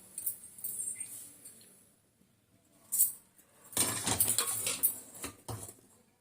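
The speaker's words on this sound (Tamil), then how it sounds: "அடுத்தது பிஸ்தா பருப்பு போட்டு வறுத்துக்கலாம்." Pistachios dropped into a pan and dry roasted, giving a short rattling patter, a pause, then a burst of dry clattering and tumbling nuts against the metal, fairly quiet and irregular.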